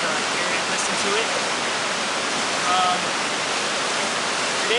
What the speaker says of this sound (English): Right now I just went down a trail and we're next to the river.